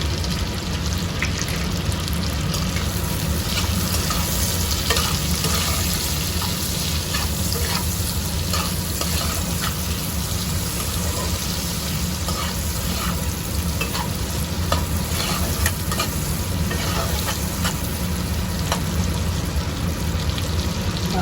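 Chopped chillies and salt frying in a pan for spicy chilli chicken, a loud, dense, unbroken sizzle with crackling spits throughout, close up and without speech.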